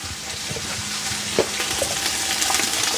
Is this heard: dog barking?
no